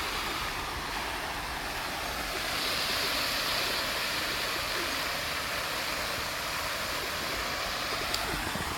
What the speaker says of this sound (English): And this is the main pond with its water fountain.